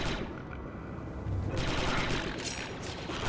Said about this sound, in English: I missed. Shooting, Delta 3-8.